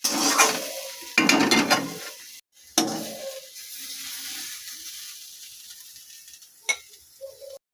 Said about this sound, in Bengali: শাকটাকে ভালো করে ভেজে নেব